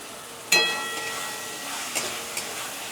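Chicken mince sizzling and frying with spices in a pan, with a sharp burst of sizzle as the meat goes in followed by steady crackling and a couple of stirring scrapes, no voices.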